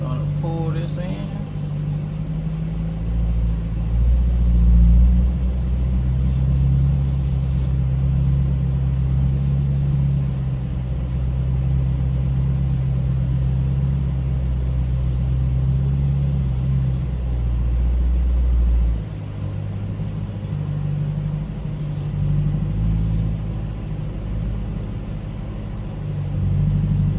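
A Chevrolet Corvette C8 driving, its engine a steady low rumble heard from inside the cabin, with road noise and faint talk over it.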